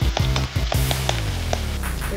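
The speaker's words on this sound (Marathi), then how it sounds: "आता हे आलं लसूण पेस्ट टाकायचं" Ginger garlic paste hits a tablespoon of hot oil in a wok, giving a steady, loud sizzle with small crackling pops throughout.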